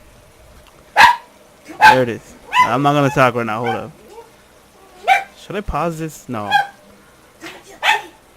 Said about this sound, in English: let me apologize for the barking in the background, because like I said, somebody's knocking on the door